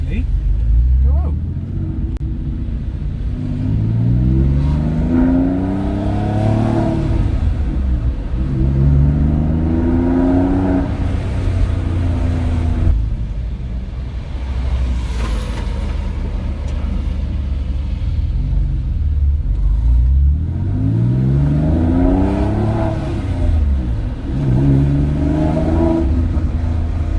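A car engine revs and rises through the gears while driving, with a steady rumble underneath and repeated upward sweeps of pitch; people talk over it.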